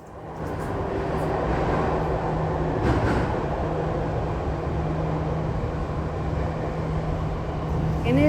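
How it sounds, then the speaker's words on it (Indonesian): An MRT train runs at Bundaran HI station in Jakarta, a loud, continuous rumble and rolling hum filling the platform for several seconds with faint background murmur. "sekarang kita lanjut ke stasiun MRT Bundaran HI"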